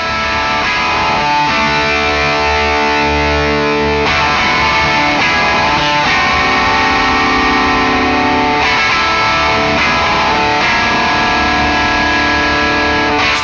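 Distorted electric guitar runs through a Dirty B Hinds Mastodrive overdrive pedal with its Gain and Headroom switches, heard as loud sustained chords and riffs with thick overdrive and added low end, played continuously without talk.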